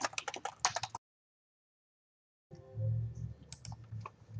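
Quick bursts of clicking keys on a computer keyboard, a short flurry of typing, then silence, then more scattered keystrokes over a low hum.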